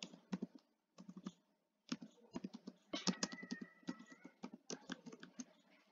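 Close, crisp keystrokes on a computer keyboard as HTML code is typed, coming in quick uneven bursts separated by brief pauses, clicking fairly loudly against near silence.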